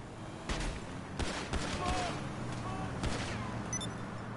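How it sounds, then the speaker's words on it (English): Several sharp gunshots from a video game ring out at irregular intervals, fairly quiet, over a low steady background hum. "I think I just shot myself."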